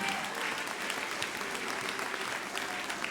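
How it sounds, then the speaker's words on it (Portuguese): A church congregation claps in praise of Jesus Christ, a steady wash of many hands applauding together at moderate volume, continuous with no talk over it. "Aplaudam ao Senhor Jesus Cristo."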